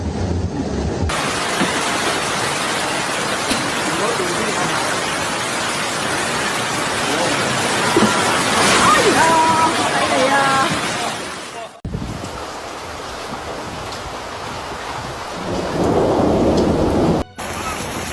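Heavy rain during a flash flood in Guangxi, China, a dense loud roar of downpour with rumbling thunder-like swells, cut into several segments with abrupt changes in level.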